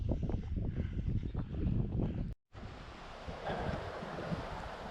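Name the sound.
river flowing during hike on Quilotoa Loop, Ecuador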